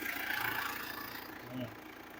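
A Mitsubishi Strada 2.8 4WD pickup engine idles with a steady, fairly quiet low rumble and a brief slight rise in pitch partway through.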